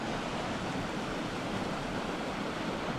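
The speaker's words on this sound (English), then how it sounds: "And here you can see the swift moving water in the open channel." A swift stream rushing through an open channel along a wooded trail in winter gives a steady, dense, unbroken wash of water noise that stays even and close throughout.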